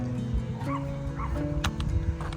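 Several dogs bark and yip close by in a short flurry of overlapping barks and whimpers over a steady background hum.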